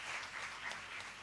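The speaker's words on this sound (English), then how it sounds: "Let's have a big round of applause for all the three panelists here." Audience applause for three panelists at the close of a conference session, a steady wash of clapping throughout the short stretch with no voices over it.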